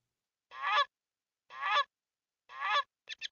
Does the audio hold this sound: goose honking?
yes